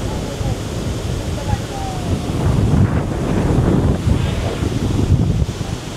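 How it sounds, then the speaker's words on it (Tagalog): Strong typhoon winds (Bagyong Krising) buffet the microphone while surf pounds White Beach on Boracay Island. The roar is loud and continuous, with gusts building midway and waves breaking close by. "ang lakas ng hagupit ni Bagyong Krising"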